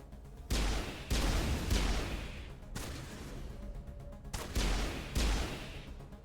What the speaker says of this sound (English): I like seeing Tally's trying to shoot her shotgun.